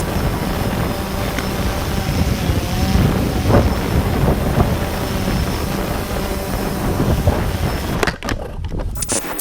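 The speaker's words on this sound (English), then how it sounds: "They're going to fly all these drones up," Drones fly overhead with a steady, loud rotor whir and buzz that holds for several seconds before cutting off abruptly near the end.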